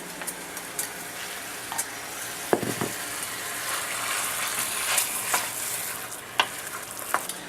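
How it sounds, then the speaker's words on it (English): Green pepper, onion and garlic saute in a pan with a steady moderate sizzle, punctuated by scattered scraping knocks of a utensil stirring the vegetables. "we're going to go ahead and saute this all together"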